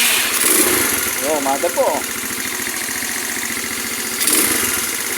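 A SYM Radar 125 motorcycle engine chugs steadily at idle, a low rapid putter throughout, with someone speaking briefly over it.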